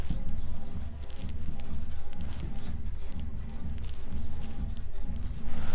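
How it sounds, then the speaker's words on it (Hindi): Steady scratchy writing on a board during a classroom lesson on the human heart, a close continuous stroke sound throughout without clear talk. "तो यहाँ मैं लिख देता हूँ फ्रॉम लंग्स"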